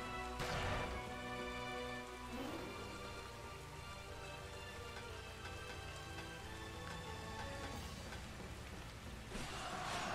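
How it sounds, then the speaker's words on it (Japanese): Steady rain pours in the Taiko Risshiden V DX strategy game, a dense continuous hiss of drops on surfaces with faint rumbles beneath, constant and moderately loud throughout. "雨降った。"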